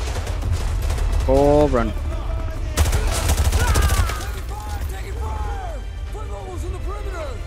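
Gunfire in Call of Duty: Modern Warfare 2 Remastered, with dense bursts of automatic fire and sharp cracks crowding the middle of the clip while a person talks over it and battlefield chatter continues.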